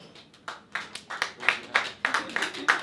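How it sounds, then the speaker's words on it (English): One audience member at a comedy show claps about a dozen times in a quick, fairly even rhythm, each clap crisp and close, with no other sound around it. "Random clap."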